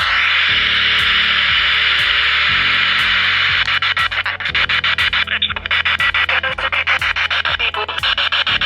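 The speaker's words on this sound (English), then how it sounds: "static noise between stations, that gets really annoying after a while" An FM radio scanning between stations gives loud, continuous hiss-like static under a regular pulsing buzz. Partway through, the sound shifts to rapid ticking crackles as the scan moves on.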